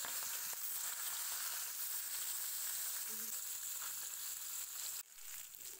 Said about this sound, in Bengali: তেল গরম হয়ে গেছে, নুন হলুদ মাখানো মাছ দিয়ে দেবো